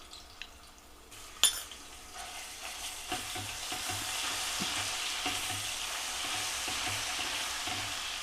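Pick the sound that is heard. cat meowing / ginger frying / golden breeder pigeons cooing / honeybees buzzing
ginger frying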